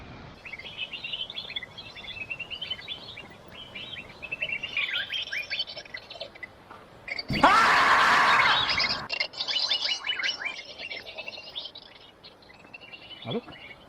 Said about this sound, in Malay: Ada burung ni.